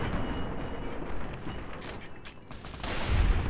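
Rapid gunfire in Fallout: New Vegas, a dense fusillade of shots over steady broadband game noise, fairly loud and continuous with a few sharper cracks standing out near the end.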